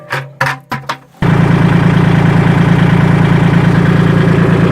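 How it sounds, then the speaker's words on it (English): Kubota L2501 compact tractor diesel engine cranking in a few short bursts, then catching and settling into a steady, loud, close idle with an even rumbling rhythm. "Let me start the tractor."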